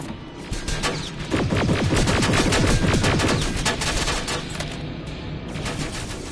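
Rapid automatic turret gunfire in the Terminator Resistance Annihilation Line DLC, a loud continuous barrage of dense bursts lasting the whole stretch with no talk over it.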